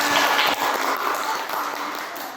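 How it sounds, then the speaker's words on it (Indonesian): A class applauds after a student presentation on Pancasila education, giving a brief burst of dense clapping that fills the room. "Tepuk tangan."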